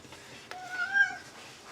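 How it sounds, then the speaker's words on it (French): A pet cat gives a single clear meow, close and fairly soft, rising and falling over about half a second in an otherwise quiet room. "Tu es beau, mon chat"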